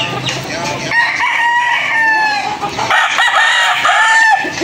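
A brood stag rooster of the Mulawin Buliks gamefowl line crows loudly and close by in one drawn-out call, with a few clucks around it.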